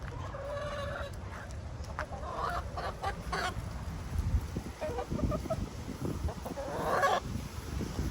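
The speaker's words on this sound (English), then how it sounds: "Let's go give the chickens a treat." Backyard chickens cluck and squawk in bursts, near and fairly loud, with scattered rustling and a low background rumble.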